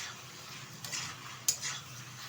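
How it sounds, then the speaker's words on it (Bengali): Vegetables for shukto, a Bengali winter-vegetable dish with bori and ginger paste, being stir-fried in a pan: a steady low sizzle broken by a couple of sharp scrapes of a spatula against the metal, close and fairly quiet. "ভালোভাবে এবার কষিয়ে নেব"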